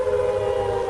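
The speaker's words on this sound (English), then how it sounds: "the sirens wail at sundown" Air raid sirens hold a steady, sustained tone for a brief moment, loud and continuous with no other sounds.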